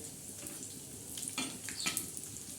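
Steady close sizzling of Bombay duck fish frying on a hot tawa griddle, with a few brief scraping stirs and no talking.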